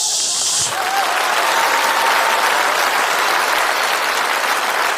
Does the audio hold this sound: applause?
yes